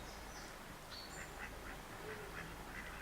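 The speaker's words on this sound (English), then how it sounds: "Invasion of the duckies!" Ducks quack repeatedly in a rhythmic series of faint, nasal calls, heard at a distance over a steady broadband background noise.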